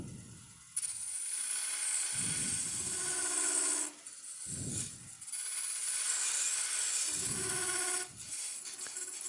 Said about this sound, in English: I'm going to take the beating and parting tool and make a nice flat groove here